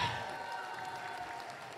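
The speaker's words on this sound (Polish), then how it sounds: "Wielkie brawa!" Audience applause at a live foal auction in Radzionków, Poland, heard as a steady, dense wash of clapping that holds at an even level throughout, with an announcer's voice faintly mixed in.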